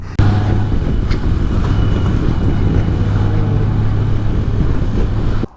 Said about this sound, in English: So this is midday Torrance, California traffic.